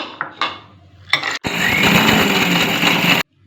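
A kitchen mixer grinder pulverises cashew nuts in a steady, loud, close whirring roar lasting about two seconds, after a few short clicks and brief pulses, then cuts off abruptly.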